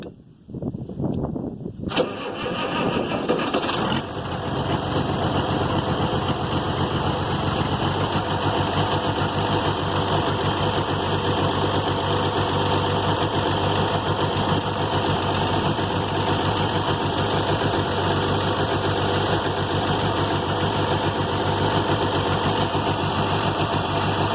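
A Farmall 706 tractor engine cranks and catches in a short burst, then settles into a loud, steady, close idle that drones on without change for over twenty seconds, no talk.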